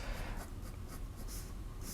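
A pencil sketching on paper while drawing small figure details, giving soft, close, papery strokes in a quick irregular rhythm of short scratches, quiet and without any talking.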